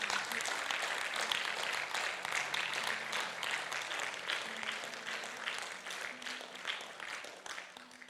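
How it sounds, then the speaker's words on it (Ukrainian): A church congregation applauding during a worship service, sustained even clapping from many hands, fairly soft and distant, with faint sung or held tones underneath. "прийми всі наші оплески зараз від церкви Твоєї"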